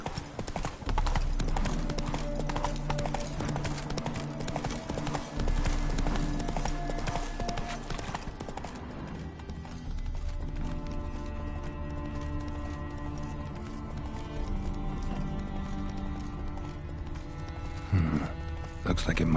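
Horse hooves clip-clopping in a steady trot in The Witcher 3, loud rhythmic hoofbeats over game music and ambience, with a voice talking partway through.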